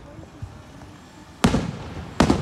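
Independence Day fireworks go off in two sharp, loud bursts with crackling tails, after a faint distant pop, outdoors near a road.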